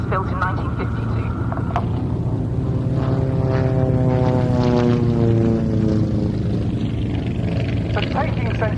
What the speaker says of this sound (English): this particular Jungmann displaying for us today is an ex-Spanish Air Force built in 1952